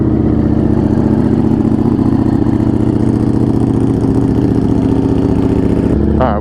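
A vehicle engine idles steadily through a cold-morning warm-up, a loud, close, even rumble with a regular pulse that cuts off near the end, followed by a brief rising whine.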